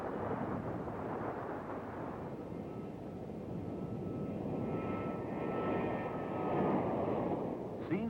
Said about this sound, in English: aircraft tires touch down, brakes are applied, the plane taxis, and takes off once more